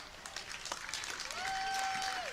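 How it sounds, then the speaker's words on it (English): Applause from a crowd at a high school boys' basketball game, a broad steady clatter of clapping with a sustained whistle-like tone rising in the background. "Good round of applause as Joshua Hillary checked back in for the Golden Knights."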